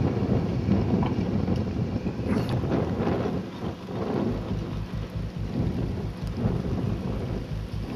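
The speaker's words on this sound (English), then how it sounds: "And the rain is starting to come down." Steady heavy rain and gusting wind during a storm at Casilda Cove anchorage in Port Davey, Tasmania, with low rumbles like distant thunder, loud and continuous with no speech.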